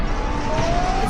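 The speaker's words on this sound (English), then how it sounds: "Tsunami sirens blaring." A tsunami warning siren wails continuously, its tone slowly rising, over a dense wash of background noise.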